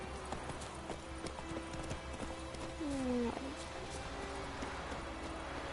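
Horse hooves in The Witcher 3: Wild Hunt make a quiet, even clip-clop throughout, with a short neigh partway through, under low background game sound.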